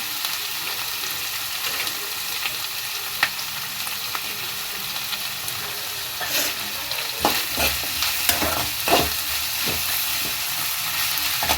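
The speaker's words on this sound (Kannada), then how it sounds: "ಆಲ್ಮೋಸ್ಟ್ ಚೆನ್ನಾಗಿ ಫ್ರೈ ಆಗಿದೆ" Spices for Tyson chicken masala fry in a pan with a steady soft sizzle. A few sharper scraping stir strokes come in a cluster toward the end, close and moderately loud.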